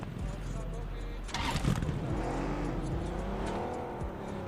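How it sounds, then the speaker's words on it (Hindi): A Lamborghini engine in the PUBG video game drives up, with a steady engine roar and a brief surge partway through, heard alongside a voice talking. "यहाँ पर एक रियल बंदा आता है अपनी लैम्बोर्गिनी लेके"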